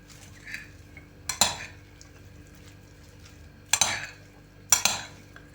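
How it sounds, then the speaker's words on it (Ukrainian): A spoon mixes mayonnaise with garlic through a salad of crab sticks, Chinese cabbage, chicken fillet, beans and carrot in a bowl, giving three separate scraping clinks of utensil on dish over a quiet room. "Перемішую майонез з часником і вимішую салат"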